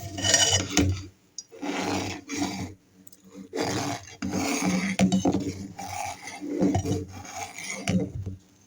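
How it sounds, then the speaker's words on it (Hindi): A spoon scrapes and stirs cabbage kheer in a metal pot, with repeated rasping strokes and clanks against the sides, loud and close, pausing briefly between bursts. "इसको चमचा चलाते जाएंगे, खीर की तरह पकाते जाएंगे।"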